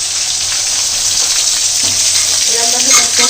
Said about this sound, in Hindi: भून जाएगा मसाला